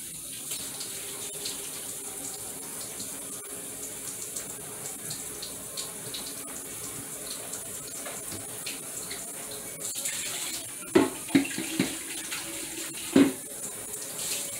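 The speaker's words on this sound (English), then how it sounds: "Now I'm going to add 2 quarts of cold water in my pitcher." Cold tap water runs steadily into a pitcher, a constant rushing hiss with a few clunks near the end.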